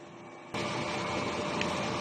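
A DTF printer starts up at the print head area after a quiet moment, then runs with a loud, steady mechanical whir and hiss that continues to the end.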